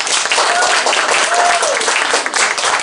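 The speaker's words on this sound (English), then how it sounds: "I want all of us to give Geraldine a warm round of applause" A crowd at a book talk gives author Geraldine Brooks a warm round of applause, a dense, loud wash of clapping lasting a few seconds with faint voices mixed in.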